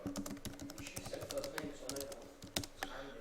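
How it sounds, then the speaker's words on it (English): Quick, close keystrokes tap out an irregular rhythm on a computer keyboard, with a few sharper clacks near the end and faint speech underneath. "then I type in 5 possibilities"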